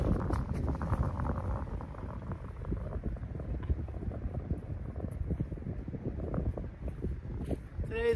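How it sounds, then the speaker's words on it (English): Strong wind blowing off a river at an outdoor disc golf course, a steady rough rumble of wind buffeting the microphone throughout, with no speech. "There's so much wind coming off the river."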